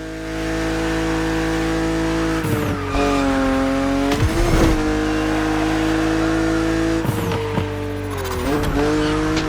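A BMW Z two-seater roadster races in the Motorfest racing video game. Its engine holds a sustained, loud drone that dips and climbs through gear changes, with tire squeal and skidding as it corners.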